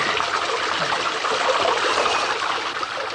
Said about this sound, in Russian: Вливается просто кипяток.